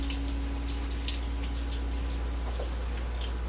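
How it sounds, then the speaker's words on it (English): Cold tap water runs steadily over cooked green beans in a sink with a constant rushing hiss, a low hum underneath and no talking. "Going to rinse them with cold water to stop that cooking process."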